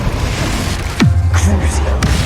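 Confringo spell blast in Hogwarts Legacy, a sharp impact followed by a deep rumbling boom that settles into a low sustained roar, with a second lighter crack near the end.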